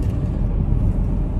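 Inside a moving car on errands, a steady low road rumble and engine drone fill the cabin, even and continuous, with no talk.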